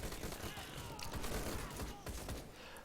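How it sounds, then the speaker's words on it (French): Gunfire from the video game Call to Arms crackles in quick bursts of shots with sharp cracks spread across the moment, set against a busy battle ambience, moderately faint, with a voice speaking over it. "Les bruits de coups de feu sont vraiment très finalement reproduits."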